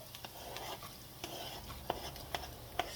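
Onions go into a hot pan and fry with a steady low sizzle, with a few sharp spatula or utensil clicks against the pan and no voices.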